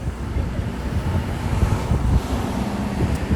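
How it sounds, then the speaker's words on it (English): Loud, rumbling wind buffeting the microphone outdoors in Japan, gusting unevenly throughout with no clear voices. "Don't know if you guys can hear me over all this wind"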